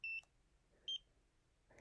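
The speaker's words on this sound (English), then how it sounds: "you hear one beep followed by the second beep" Two short, clear electronic beeps from a Nira skincare laser, the second about three-quarters of a second after the first, close and alone in a quiet room.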